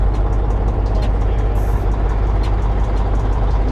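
A Ural 4320 truck chassis with its diesel engine running, a loud, steady low rumble with a dense even throb, close by and continuous throughout, with no talking.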